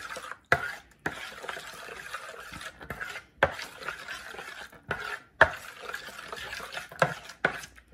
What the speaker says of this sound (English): Mixing it all up in there together.